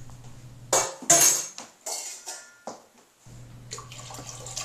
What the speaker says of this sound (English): And I'll do the same for the powdered citric acid. Just dissolve it in some water.